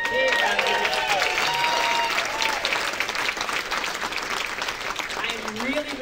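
An audience applauds at the inaugural Synergies Work Eddie Awards ceremony, with steady, full clapping that runs the whole time while cheers and raised voices rise over it.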